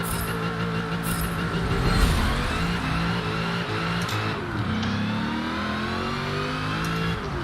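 A supercharged 5-litre Commodore engine revs loudly in a Forza racing game, climbing and falling in pitch with sustained harmonic drone and gear-shift dips, close and dominant with no talk.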